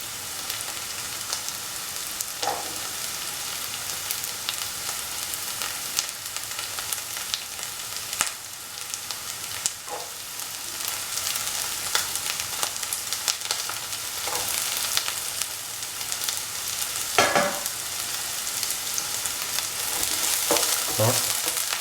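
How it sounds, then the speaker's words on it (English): Chopped onions sizzle and fry in a pan with a steady crackling hiss throughout, broken by occasional scraping stirs, close and continuous, with no speech. "Now put in the onions which we have cut into small pieces."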